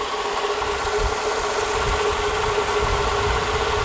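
A car engine idles steadily during an alternator check with a Foxwell BT-705 battery analyzer, giving a loud, constant, close mid-pitched hum with a faint underlying vibration.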